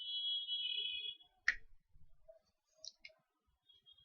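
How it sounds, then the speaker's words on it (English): Computer mouse clicks, a few sharp close taps in quick pairs, faint and isolated in a quiet room. "Right click and copy this."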